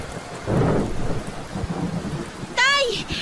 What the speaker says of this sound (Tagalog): mas malakas po ang maraming ulan na dala ng bagyo